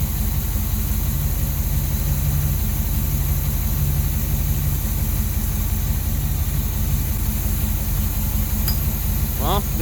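A 427 big-block Chevy V8 in a 1969 Chevrolet Caprice idles with a deep, steady rumble throughout. A brief higher sound rises near the end.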